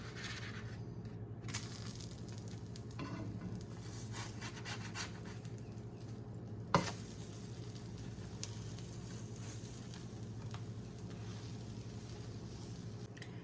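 Protein powder pancakes cook in an oiled nonstick pan, a faint, steady low sizzle with a soft hiss running on evenly and one brief clatter partway through, with no talk.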